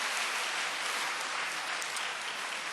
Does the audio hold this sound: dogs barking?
no